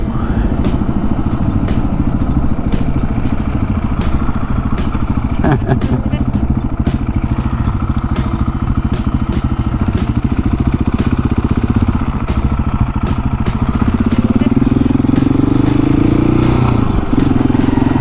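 A Husqvarna 701 Supermoto engine runs steadily during wheelie practice, with throttle swells and one rising rev near the end, while a rider talks over it throughout.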